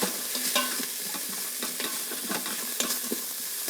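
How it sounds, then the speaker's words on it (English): Black pepper, salt, paprika and cumin are stirred into butternut squash chili in an Instant Pot, a close, continuous scraping and sizzling with quick spoon clicks. "So very simple spices here, just some black pepper, salt, paprika, and a little bit of cumin. Give that a good mix."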